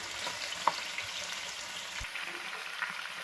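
Whole chicken sizzles in achari masala in a karahi, with a soft, steady frying crackle and occasional stirring clicks and scrapes.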